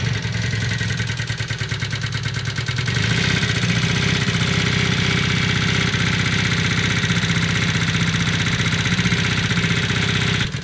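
A Honda CB250 Super Dream motorcycle engine idles steadily up close, its rumble shifting slightly lower and smoother a few seconds in as the choke goes off, then holding a constant chugging throb.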